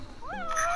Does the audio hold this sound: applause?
no